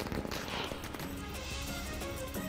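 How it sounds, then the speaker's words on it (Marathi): Firecrackers burst in a dense, rapid crackling barrage at a street celebration by party workers at Akashwani Chowk in Jalgaon, with continuous loud popping and outdoor noise. "आकाशवाणी चौकात फटाके फोडून जल्लोष साजरा केला."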